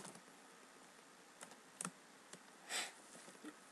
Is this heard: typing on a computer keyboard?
yes